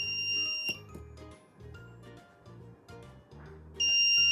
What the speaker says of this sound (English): Now if some intrusion happens, you will see that alarm triggers.